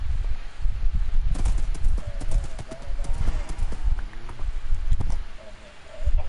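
Rapid clip-clop of horse hooves on a hard surface in Minecraft, steady and fairly close, with a voice talking over parts of it.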